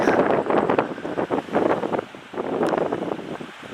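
Gusty wind buffets the microphone while waves wash steadily onto a lake shore by a pine forest campsite, a continuous broadband roar with no voices.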